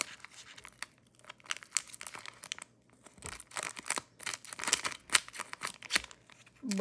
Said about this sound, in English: No, I'll use scissors.